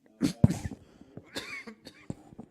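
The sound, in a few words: cough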